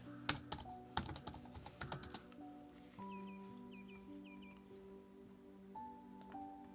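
A quick flurry of keystrokes on a computer keyboard fills the first couple of seconds at moderate level, then gives way to soft tonal background music with no talking.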